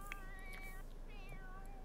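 A cat meows in a Sims-style life simulation game, several short, close, fairly faint meows spread across a couple of seconds, with no talk over them.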